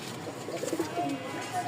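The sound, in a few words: pigeons cooing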